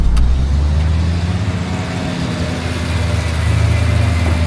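An Audi Quattro's engine runs in a storage unit, a loud, steady low rumble that holds at an even level throughout, close by and with no talk over it.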